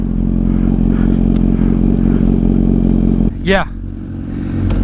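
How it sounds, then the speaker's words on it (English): Sport touring motorcycle engine idling close up with a steady low rumble, broken midway by a brief scraping, sweeping mechanical sound before the engine settles back to running; a voice speaks briefly. "Oh, my bike was kind of slow to start right there."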